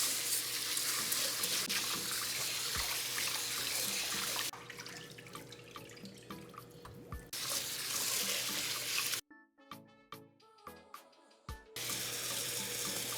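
Two cups of long grain basmati rice are rinsed under a running tap, with steady splashing water that briefly quiets, then breaks into intermittent pours and drips before the flow resumes.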